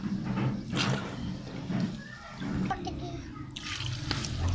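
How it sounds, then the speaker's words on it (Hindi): Water pours into a cooking pot holding potatoes and chana dal, a steady splashing trickle running throughout while someone talks over it. "अब मैं इसमें डालने लगी हूँ पानी"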